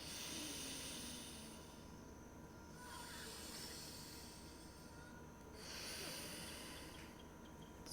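Slow, hissy nasal breaths drawn in and let out during an alternate-nostril breathing exercise, very faint and close, swelling and fading in long, even cycles with no talking.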